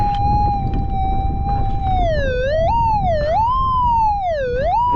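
Warbling electronic tone of a metal detector sweeping over a buried gold target on a wet gold patch after rain, a steady pitch that bends up and down in repeated swoops, loud and close over faint wind.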